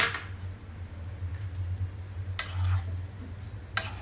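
A spoon stirs dahi aloo with chopped capsicum in a pan, giving faint soft squishing and scraping strokes over a low steady simmering hum, with two brief sharper scrapes.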